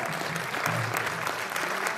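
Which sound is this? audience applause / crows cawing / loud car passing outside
audience applause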